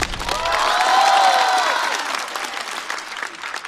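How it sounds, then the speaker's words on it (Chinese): Studio audience at a stand-up comedy show applauding, a loud burst of clapping that swells and then slowly fades, with some cheering mixed in. "再次掌声送给阿修"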